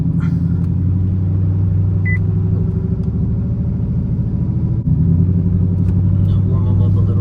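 A Chevy SS with a Kong X-Port supercharged LSA engine rated over 800 hp doing a second-gear burnout, giving a loud, steady, close engine roar with rumbling exhaust that holds throughout.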